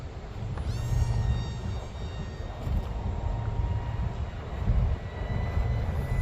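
A Dee RC A290 micro F16 RC plane flies at zero throttle with its propeller still whining thinly in the background, a steady high tone over continuous low wind rumble outdoors.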